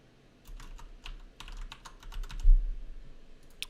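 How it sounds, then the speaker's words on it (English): Keys clatter on a computer keyboard as a username and password are typed, a quick run of light, close clicks with short pauses, over a soft low hum. "this is where you type in your username and password"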